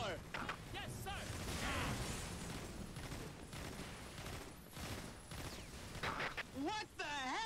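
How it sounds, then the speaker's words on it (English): Dense artillery barrage in the video game Earth Defense Force 5, with loud overlapping blasts and rumbling impacts filling the whole stretch while in-game voices talk over the din. "The artillery fire is too strong."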